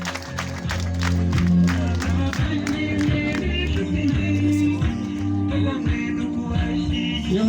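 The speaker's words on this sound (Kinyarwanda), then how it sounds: "amashyi menshi" An audience applauds and cheers at a Rwandan stage show, steady loud clapping with whoops, while strong tonal music or voices run underneath the whole time.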